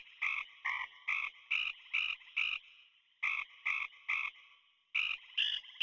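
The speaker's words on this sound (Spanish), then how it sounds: "Escuchemos la melodía que hacen las ranas." Cartoon frogs in a Mini Einsteins children's music game croak out a melody, twelve bright evenly spaced croaks in two phrases of six, separated by a short pause, loud and close with no talk.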